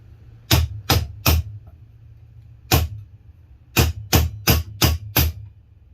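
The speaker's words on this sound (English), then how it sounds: "I want to bring out my piece and hammer it right here on this end so that I bend this area here" A metal spoon being hammered to bend it into a ring gives sharp, ringing strikes, first a quick group of three, then a lone blow, then a rapid run of five, close and loud against a quiet hum.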